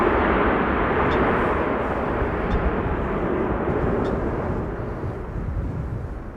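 A Delta airliner lands at Amsterdam Schiphol on a windy day, its broad jet roar loud and sustained, then slowly easing as it passes, heard from outdoors at the field.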